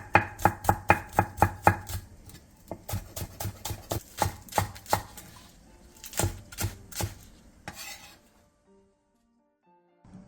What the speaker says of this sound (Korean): 양파 2분의 1개를 채 썰고 대파 3분의 2개는 짧게 어슷썰게 해주세요.